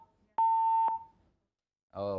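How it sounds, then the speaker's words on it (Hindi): After a phone call cuts off, a single flat electronic beep sounds for about half a second and fades into silence, then a voice starts speaking. "फोन ही कट गया"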